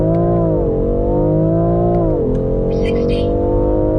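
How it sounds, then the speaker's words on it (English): A BMW X3 M Competition launches hard, its engine note climbing steadily and dipping briefly at a gear change, loud and close, with talk over it. "Launch control activated."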